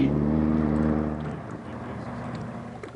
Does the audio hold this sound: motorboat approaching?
yes